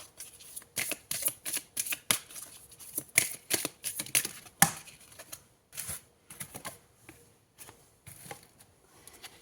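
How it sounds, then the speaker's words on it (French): Tarot cards being shuffled and drawn at a table, a run of soft, quick riffling flicks and slaps, fairly close and steady, with no talking. "Je vais tirer 2 cartes."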